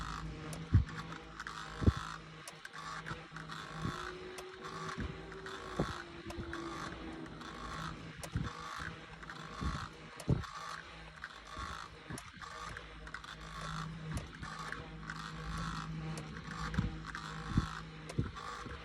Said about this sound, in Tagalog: Grabe pinaglalaroan yung electric fan.